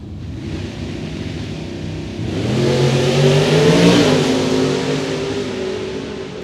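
A 68 Camaro and a Firebird launch side by side at a drag race, engines roaring loudly as they rev and accelerate, the sound swelling mid-clip then easing slightly.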